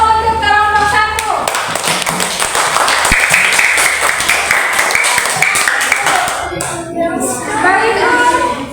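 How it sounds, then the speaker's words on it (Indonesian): Students in a classroom clap together after a brief spoken line; the close, lively clapping runs for several seconds with sharp individual claps audible, then dies away as voices return. "tepuk tangan dulu untuk kelompok satu"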